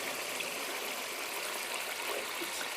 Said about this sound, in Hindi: ये 100 ग्राम मैंने इसके अंदर पानी डाल दिया।